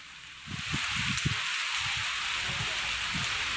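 Steady rain falls in Bengaluru, a continuous hiss of drops with some low patters and soft thumps under it, fairly faint and with no voices.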